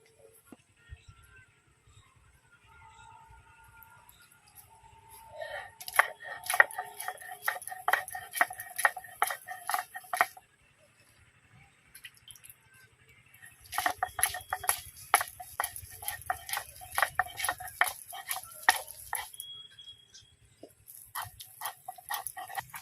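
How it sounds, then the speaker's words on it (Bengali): Peanuts ground into a fine paste in a kitchen, producing bursts of rapid scraping and clicking strokes in two main spells separated by a quiet pause, fairly close and with no talking. "আমি বাদাম নিয়েছি এক বাটি এখানে বাদামটা আমি বেটে নেব আগে"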